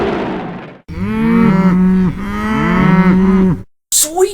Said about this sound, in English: It sounds like something's attacking the cattle.